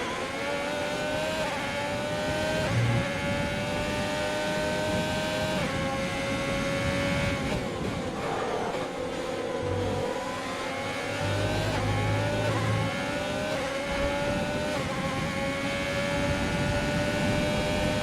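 A Ferrari Formula 1 car engine in the racing game F1 2020 holds a steady, high-pitched whine as it pulls away. A constant engine drone and mechanical hum run throughout with slight pitch shifts and no voices.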